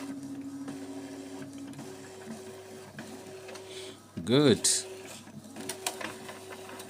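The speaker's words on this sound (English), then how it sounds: "You can see the printer is making a copy now." An Epson printer runs a copy job with a steady mechanical hum, then a loud whirring sweep of rising and falling motor pitch mid-way and some clicks after, while a person speaks briefly.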